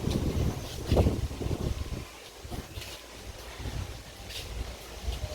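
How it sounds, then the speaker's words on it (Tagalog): Strong wind buffeting a microphone outdoors, steady low rumbling gusts with a louder burst near the start, then easing to a sustained blustery roar. "Sobrang hangin dito."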